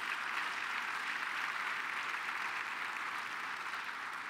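An audience at a closing ceremony applauds with a soft, distant, uniform wash of clapping that holds steady from start to finish.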